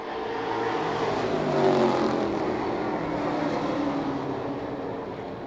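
Race cars of the Mid American Series roar around an oval track at the Oktoberfest event, a loud, steady engine drone sustained throughout with a slight swell as cars pass close by.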